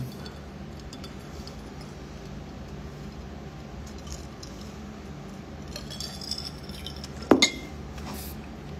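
Cups touched together in a drinking toast: one brief, bright clink near the end, standing out against a quiet room murmur, followed by a couple of faint small knocks.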